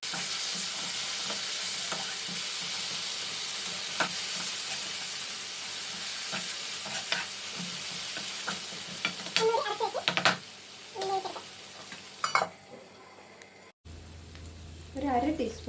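Ginger-garlic paste and curry leaves sizzle and spit in a hot pan for a Kerala-style clam roast, with steady frying hiss, stirring scrapes and a voice talking briefly near the end.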